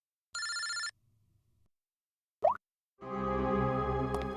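A telephone rings in short electronic bursts, silence between them, a brief pop in the middle, then a longer tonal ring at the end.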